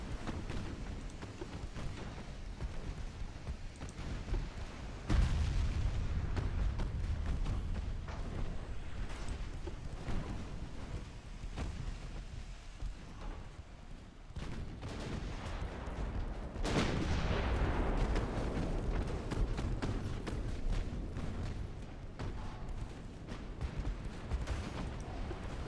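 Heavy naval gunfire from warships in the video game Ultimate Admiral: Dreadnoughts, a dense run of deep booming shots and rumbling blasts that keeps going loudly with no letup, the sharpest salvos landing around the middle.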